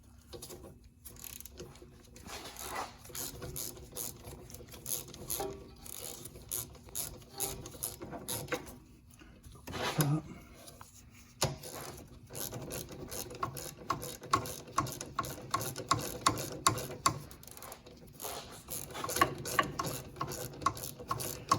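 A hand ratchet fitted with a 45 Torx bit works loose the rear brake caliper bracket bolts on a Dodge Durango, giving long runs of rapid clicking pawl strokes with brief pauses, close and fairly loud, and no talking.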